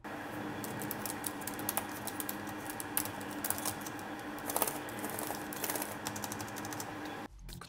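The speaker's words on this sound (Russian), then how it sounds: "Ход клавиш средний. Нажатия очень мягкие," Someone types on the full-size keyboard of an ASUS VivoBook S 15 OLED laptop, which has soft, medium-travel keys. Close, quiet, rapid key presses patter steadily for several seconds and then stop abruptly, with no talking.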